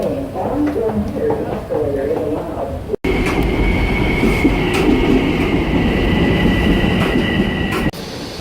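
A New York City train at Penn Station rumbles loudly and continuously, with a high metallic squeal droning through most of it; a sharp cut briefly interrupts the noise.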